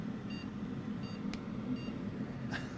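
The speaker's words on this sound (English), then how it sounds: "Six beeps." A series of faint, evenly spaced computer power-on error beeps, six in all, sounds over a steady low hum from a PC with a smoked Gigabyte RTX 3070 graphics card.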